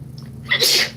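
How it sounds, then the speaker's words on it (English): A single sharp sneeze bursts out after a brief quiet intake of breath, close and loud. "gonna sneeze."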